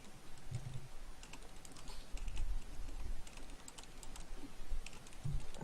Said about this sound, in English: Yes, I'm typing to you.